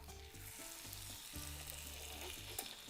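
Swordfish steak frying in a pan, a steady broadband sizzle running continuously for the whole stretch with no voices, with faint background music underneath.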